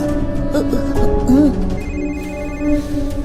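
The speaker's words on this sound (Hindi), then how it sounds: "ये ले, थारे बाप ने फोन मिला दिया।" A telephone ringtone chimes in a repeating melodic pattern, close and clear, mixed with some background sound and faint voice-like tones.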